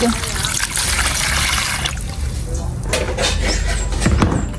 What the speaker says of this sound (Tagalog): At tayo pa ay maglalagay po dito ng tubig.